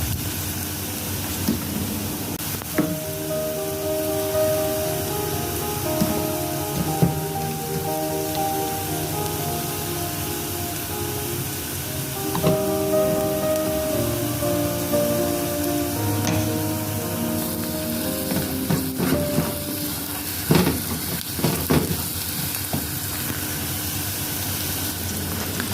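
Onion, garlic and seafood spices frying in a pan for a shrimp rice dish, giving a steady close sizzle with scattered clinks and scrapes of stirring, over a constant tonal hum throughout.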